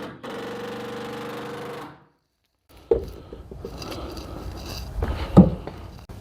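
A power screw gun set to low drives screws during a Lance Squire Lite 195 camper rear wing install, with a steady motor whir followed by a pause, then clunks and knocks.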